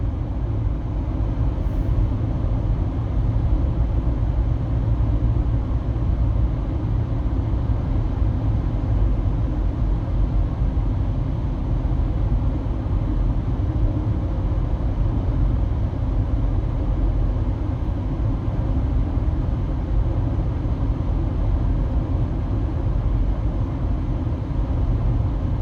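Steady road drive in a dragster-style car cruising at highway speed, a continuous broadband engine and road rumble holding an even loudness throughout with no voices.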